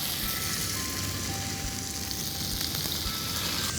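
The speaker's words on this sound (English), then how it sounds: "you need to hear the sizzling sound when you place the chicken" Chicken satay pieces sizzle on a hot grill pan, a dense, steady crackling hiss filling the whole moment, close and continuous with no talk.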